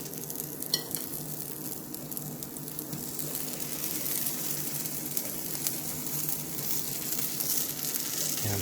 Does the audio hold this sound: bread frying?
yes